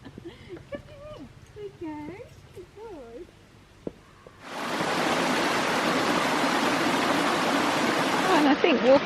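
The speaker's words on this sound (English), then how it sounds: "the stream is right next to you, which is gurgling along and making the most gorgeous noises" A stream gurgles right beside a walking path in the Danescombe Valley of the Tamar Valley. A voice talks over quiet surroundings at first, then close, steady rushing water takes over and fills the rest.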